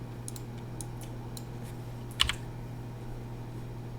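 Computer keyboard keys are tapped in a few light, close clicks, with a slightly louder cluster of keystrokes midway over a steady low hum.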